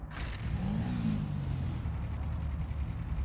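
A motorbike engine in GTA Online drives steadily, loud and close. It gives a continuous low drone that swells slightly near the start and then holds a constant rumble with no talk.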